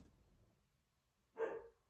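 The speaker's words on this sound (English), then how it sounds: "he's barking" A single short dog bark rings out after a quiet pause, fairly distant and faint against a hushed background.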